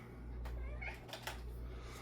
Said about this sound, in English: Lila's up by me, so she'll be meowing